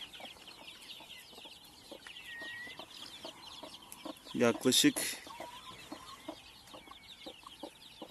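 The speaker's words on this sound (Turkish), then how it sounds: "Burada yeni çıkan civcivlerimiz var." Many newly hatched chicks cheep in thin, high peeps throughout, and a voice briefly speaks over them midway.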